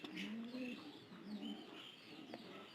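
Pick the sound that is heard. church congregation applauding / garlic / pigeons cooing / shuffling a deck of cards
pigeons cooing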